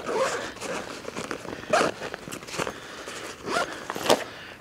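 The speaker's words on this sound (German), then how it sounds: "Schönen Reißverschluss, dass man wirklich weiter aufmachen kann" A zipper on a bag is pulled open in several short, raspy bursts, close and fairly loud, with no talking.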